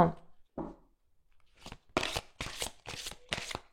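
Oracle cards being shuffled by hand, a couple of soft riffles followed by a quick series of five or six crisp, rhythmic shuffling bursts, close and clear with no talk.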